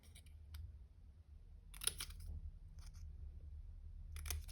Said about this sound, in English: Grab a pair of scissors and you're going to cut away one of these quarters.